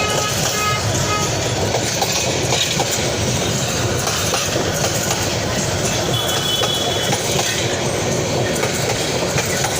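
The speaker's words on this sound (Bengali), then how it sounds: "আন্তনগর এক্সপ্রেস" An intercity express train runs past on the rail track close by, a loud continuous rumble with rhythmic clickety-clack of wheels and faint squealing throughout.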